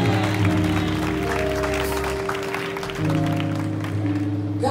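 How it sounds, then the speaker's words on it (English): A church congregation claps at an appreciation service, with scattered applause layered over sustained organ or keyboard chords that shift midway. "I want you to clap your hands and thank God for missionary Candy Young San"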